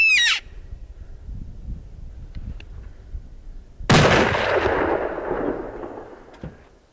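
A hunting rifle fires one loud, sharp shot outdoors with a long rolling echo that trails off over several seconds, preceded by a brief crack and quiet field ambience.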